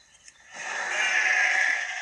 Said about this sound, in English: He's not really seeming to mind if I kill his sheep.